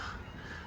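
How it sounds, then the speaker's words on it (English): Gulls calling at a calm seaside in Bridlington at falling tide, a harsh continuous cry over steady background wash, moderately near. "You can hear the seagulls there."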